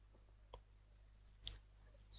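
Two distinct computer mouse clicks on a download link, spaced about a second apart, crisp and close against a faint steady hum.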